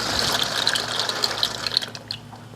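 A pot of water boiling for pasta on a stove gives a steady, close, bubbling and hissing wash of water noise with small pops throughout, with no talking.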